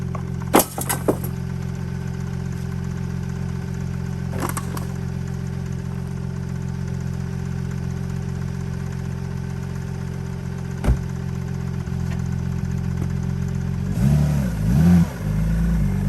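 An Audi B6 A4 with a swapped 2.7T engine idles steadily, its exhaust giving a continuous low drone with a few brief clicks and a slight rev near the end.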